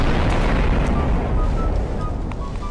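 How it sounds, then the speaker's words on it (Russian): A big in-game explosion in Garry's Mod gives a loud, sustained rumbling roar that fades gradually across nearly three seconds, with no voices over it. "Это был мега взрыв."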